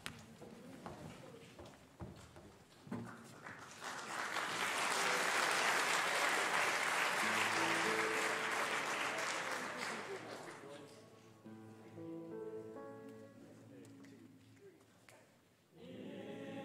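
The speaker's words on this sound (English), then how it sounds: "Feel free to clap." An audience at a school fall ensemble concert claps, swelling to a loud, steady applause, then fading as the band begins playing the alma mater.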